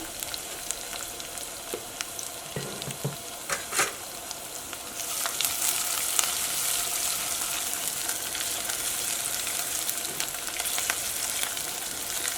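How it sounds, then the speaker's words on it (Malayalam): Ginger and garlic fry in a pan for chilli beef with a constant close sizzle. The sizzle swells louder about halfway through, with occasional stirring scrapes and no talking. "ഈ ഇഞ്ചിയും വെളുത്തുള്ളിയും ഒന്ന് മൊരിഞ്ഞ് വരണം."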